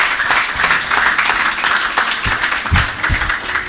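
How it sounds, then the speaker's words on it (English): A hall audience at a food production conference claps in a dense, sustained round of applause, with a few low thumps mixed in. "A round of applause for that previous session."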